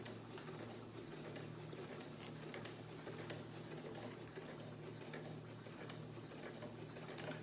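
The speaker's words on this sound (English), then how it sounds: "I'm just going to slow the speed down on the machine and edge stitch" A sewing machine running at slowed speed edge stitches a fabric face mask near an inserted nose wire strip, giving a steady, continuous mechanical whir with fine ratcheting clatter throughout, close and alone.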